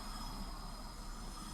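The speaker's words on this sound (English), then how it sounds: "that's the train leaving the station." A train pulling out of Helensburgh station, heard as a steady low rumble and wheel noise at moderate distance, continuous and fairly faint without any voices.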